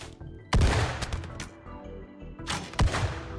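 Colonists' guns firing in the colony sim RimWorld: two loud bursts of shots, each with a sharp crack followed by a few quicker pops, separated by a quieter stretch.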